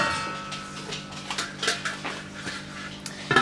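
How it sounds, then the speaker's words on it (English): A lid set onto a cooking pot with vegetables, a few light metallic clinks and taps followed by a sharper clatter at the end, close by and brief. "Okay, so I'm going to cover it"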